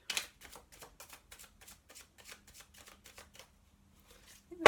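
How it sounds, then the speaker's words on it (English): Tarot cards being shuffled by hand in a series of quick, crisp riffling bursts, about a dozen short rustles in an even rhythm, close and fairly quiet, with no voices. "I'm going to do a bit of a big girl shuffle."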